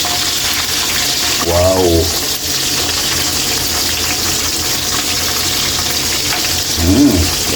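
Milkfish (bangus) sizzles in hot oil in a pan, making a loud, steady crackling hiss throughout, with a short spoken exclamation and a voice briefly heard over it.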